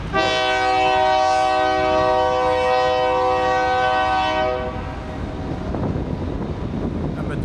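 A train at the Fort Worth Amtrak station sounds a loud, sustained horn for several seconds. A heavy rumble of rail cars carries on underneath and continues after the horn fades.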